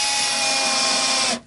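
A power drill bores into a new piece of timber during a Stratocaster partscaster repair, whining loud and close at a steady pitch before stopping abruptly near the end.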